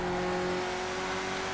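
A car engine revs steadily in a racing video game, a loud, close, continuous droning tone holding a fairly constant pitch throughout with no talk over it.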